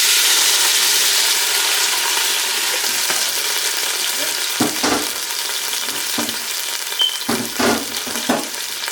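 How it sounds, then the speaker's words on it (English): Roughly chopped tomatoes sear in avocado oil in a pot over medium heat, making a steady close frying sizzle throughout, with a few short stirring scrapes and clatters toward the end. "Get them a nice little, not much of a sear, but just to cook them down a little bit."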